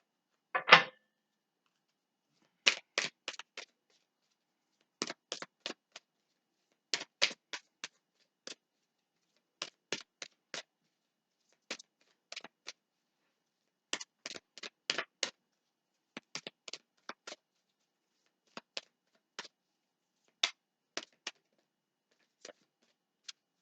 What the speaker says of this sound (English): All my decks are always pre-shuffled, but I like to shuffle them with you here also.